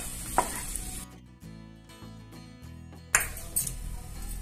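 Cashews and raisins frying in ghee in a pan for rava laddu, a soft sizzle with a few sharp clinks of a spoon against metal, briefly dropping to quiet before the sizzle returns.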